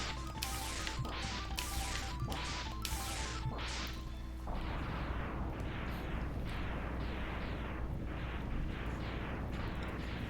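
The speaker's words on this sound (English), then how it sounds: "appreciate how fast these boss death explosions are" Rapid boss death explosions from the video game Mega Man X, a dense string of crackling bursts, loud and continuous, over a steady game music drone that drops away partway through.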